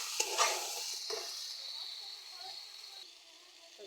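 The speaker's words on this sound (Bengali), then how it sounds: "সেটাকে আমি কষছি, দেখুন" Potatoes and whole tomatoes with chilli, turmeric, salt and oil sautéing in a pan, a soft close sizzle with a few stirring scrapes near the start that fades slightly, under a quiet voice.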